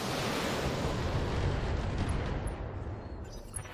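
Mech weapons firing in the BattleTech video game: a dense, sustained roar of blasts and rumbling impacts, loud and unbroken for several seconds, easing slightly toward the end.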